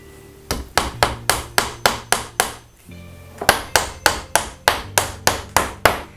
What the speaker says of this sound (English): And I'm just hammering them in at an angle.